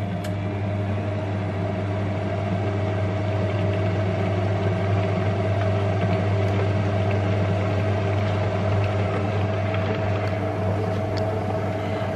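A Lidl Monsieur Cuisine Connect food processor cooking a piña colada tart filling at 90 degrees and speed 3, giving a steady, loud motor hum with a low drone and faint whirring churn, unchanging throughout with no talk.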